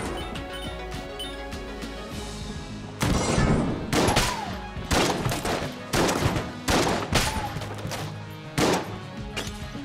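Shotguns fire in the video game Enter the Gungeon, a series of sharp, punchy blasts in uneven succession over a steady background game soundtrack.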